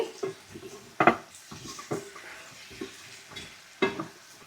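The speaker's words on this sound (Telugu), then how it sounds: "ఇవన్నీ వేసిన తర్వాత బాగా కలిపేసుకోవాలి కూరగాయలు ఉప్పు కారం పసుపు వేరుశనగ పప్పు అన్నీ బాగా మిక్స్ చేసుకోవాలండి" Close, irregular scraping and clinks of chopped vegetables, salt, chilli, turmeric and peanuts being stirred in a pan, a few sharper knocks against the pan among softer stirring, with no talk.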